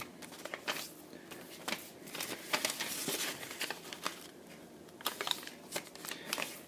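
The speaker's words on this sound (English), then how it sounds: "Now flip it over and fold in half diagonally," Origami paper being folded by hand into a Christmas tree, with close, quiet crinkles and crisp creasing rustles in an irregular run of small bursts and no talking.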